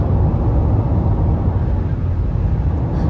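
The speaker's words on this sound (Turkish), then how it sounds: "Sadece stabilize böyle bir uğultu var arabanın içinde." Steady low road hum and rumble inside a Volkswagen Passat cruising at about 120 km/h on a highway, a continuous loud drone with no breaks and no talking.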